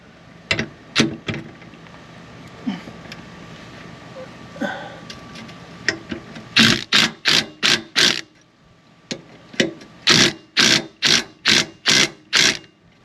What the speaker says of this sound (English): I used my impact to run it in to where the splines were seated into the spring hanger.